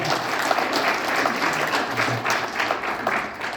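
Welcoming applause from guests at a Busan launch ceremony, a brisk crowd of clapping with individual claps poking through, moderately loud and continuous throughout.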